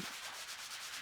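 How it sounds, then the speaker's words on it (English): An accent wall is sanded during a home renovation, a close, rhythmic rasping with repeated back-and-forth strokes, loud and alone. "And the sanding started and didn't seem to stop for a long, long time."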